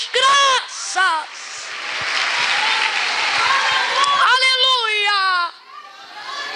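A church congregation claps along during an emotional Portuguese-language sermon, the clapping blending with raised, sustained voices calling out; the voices come through loudly at the start and again near the end, with the clapping running steadily underneath.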